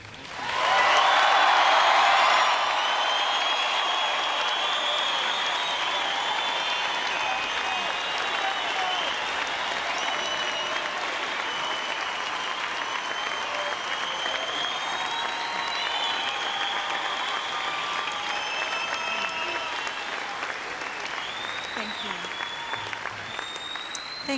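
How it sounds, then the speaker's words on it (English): Sustained applause from a large audience welcoming President Clinton at a university appearance, loud and dense from the start and holding steady for the full stretch, with crowd noise mixed in. "let's give him the loudest, warmest welcome that he has ever received in this presidency"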